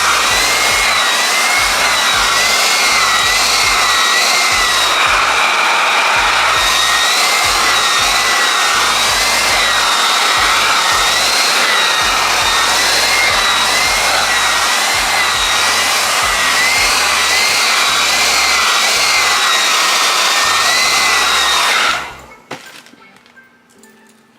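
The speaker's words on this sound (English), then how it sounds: "I'm gonna just blow dry the top down like this." A hair dryer blows over the top of a chocolate brown deep water wave lace front wig coated with conditioner, a loud close continuous roar that runs unbroken for over twenty seconds before switching off abruptly.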